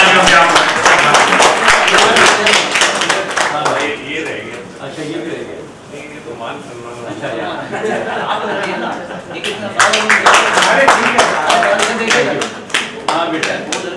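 Audience at a mushaira poetry gathering breaking into bursts of clapping, loud and close, fading briefly in the middle before swelling again, with chatter and laughter mixed in.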